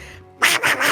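A voice imitates Donald Duck's quacking, garbled speech in a loud, close burst of three raspy nasal pulses after a brief quiet moment.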